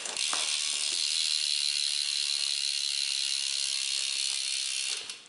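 A Shadow Raptor rear hub on a BMX bike buzzes with a rapid, loud, continuous ratcheting clicking as the wheel freewheels, fading at the end, close and alone.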